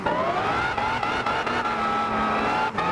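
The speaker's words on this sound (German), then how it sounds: "Hier permanent durchdrehende Räder." A Dodge Viper ACR race car in Gran Turismo 6 on sport tires spins its wheels, its engine droning loud and steady with a rising then sagging pitch and faint tire noise, no talk.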